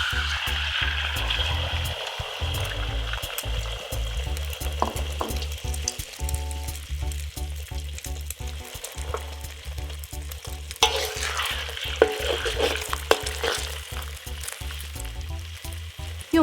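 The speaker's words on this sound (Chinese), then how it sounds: "首先我们来炒鸡蛋，油可以放多一点，这样炒出来的蛋呢比较嫩" Beaten eggs fry in a generous amount of oil in a wok, crackling and sizzling steadily while being stirred and scraped, with a low throbbing hum from the burner beneath.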